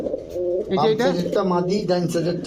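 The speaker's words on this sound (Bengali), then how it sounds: "red strawberry short face imported কবুতর ইম্পোর্ট করা কবুতর" Imported red strawberry short face pigeons coo repeatedly, close by, in short throaty phrases with a soft rolling rhythm.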